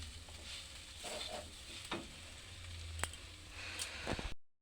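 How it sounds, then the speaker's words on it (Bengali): Mughlai filling stirred and frying in a pan: a steady soft sizzle with occasional scraping and clinking of the spatula against the pan, close and alone without talk, ending abruptly. "ভালোভাবে নেড়ে নিতে হবে।"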